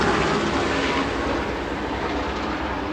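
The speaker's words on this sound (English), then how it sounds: "A low-flying helicopter" A loud, steady roar of a low-flying helicopter overhead, broad rumbling engine noise that fills the clip without letting up.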